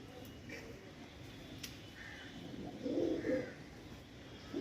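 Breeding pigeons at a bird sale give soft, low cooing calls, faint and intermittent against a steady background hiss, with a louder burst of coos near the end.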